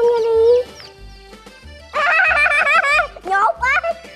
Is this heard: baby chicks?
yes